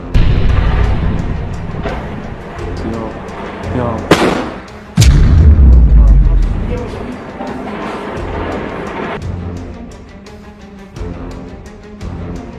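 Heavy gunfire and blasts ring out in a war-zone combat scene with a sniper rifle attack on soldiers: loud booming shots with sharp cracks near the start and middle, rumbling echoes between them, and a voice speaking over parts of it.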